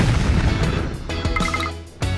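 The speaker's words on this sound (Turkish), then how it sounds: "onlar patladığında şekere dönüşüyorlar" Objects exploding into candy in a video game, heard as a dense, loud run of booming bursts and crashing pops with a brief lull near the end.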